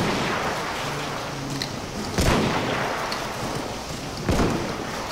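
An Obrez pistol fires in Battlefield 1, two sharp loud shots a couple of seconds apart over a constant roaring, rain-like background wash.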